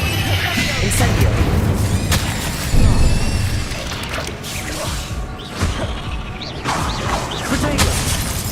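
A fire spell cast in the Hogwarts Legacy video game, a loud whooshing burst with booming, crackling game effects layered over busy combat sounds.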